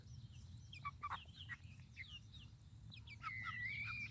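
Chickens, young hens not yet laying, clucking and calling in short scattered bursts across a backyard garden, with one longer high call near the end, fairly close and alone.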